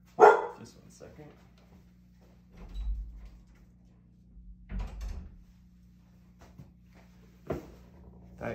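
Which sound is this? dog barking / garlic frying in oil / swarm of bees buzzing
dog barking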